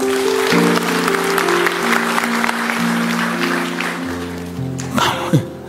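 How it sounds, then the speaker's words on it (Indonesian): Church congregation applauding during a sermon, steady broadband clapping filling the room with sustained musical tones beneath, fading slightly near the end. "Kasih tepuk tangan untuk Tuhan"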